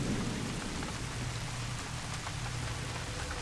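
Steady rain falls in the X-COM video game, a dense even hiss with faint low rumbling underneath, continuous throughout with no voices.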